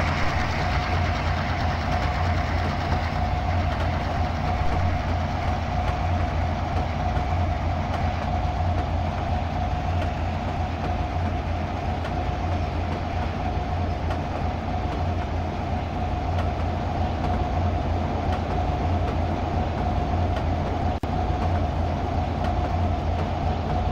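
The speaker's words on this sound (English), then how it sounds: "Now I know we've got a train coming out." A simulated train runs steadily in the Trainz 3 mobile game on Android, a continuous engine drone and rolling rail rumble with a sustained tonal hum, unbroken and with no one talking.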